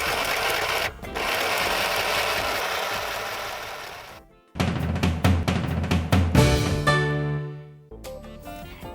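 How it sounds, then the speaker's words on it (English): A sewing machine sews the small fabric clothing pieces for a Tilda textile doll in close, steady runs. After a brief stop, quick start-and-stop bursts of stitching follow, and then the machine slows and winds down. "we can take the sewing machine and sew all the details"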